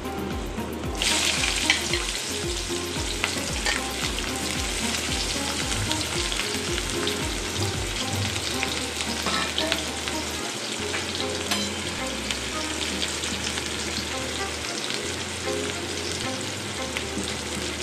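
Onion fries in hot oil with dried chilli and five-spice, giving a loud, continuous sizzle that flares up at the start and holds steady, with faint stirring scrapes underneath.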